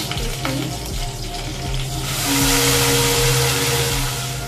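Onions and chillies in a small amount of oil fry in a pan, a near, steady sizzle that swells partway through as heat or stirring picks up, with no one talking.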